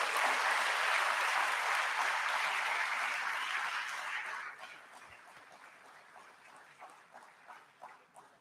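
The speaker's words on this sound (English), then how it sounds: "Let's give them a big round of applause." Audience giving a big round of applause at an IPO bell ringing ceremony, a loud, steady wash of clapping that fades after about four seconds into scattered claps and quieter room murmur.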